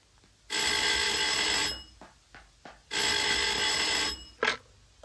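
A telephone bell rings in two long, loud trilling bursts separated by a pause, with faint knocks and rustles in the gap and a short extra burst near the end.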